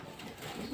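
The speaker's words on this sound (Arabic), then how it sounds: "فرد حمام فلاحي عادي من اللي هو البلدي بتاعنا العادي اللي بنربوه اهو" A domestic farm pigeon of the common local breed gives a soft, brief coo, faint and close, with low background noise and no talk.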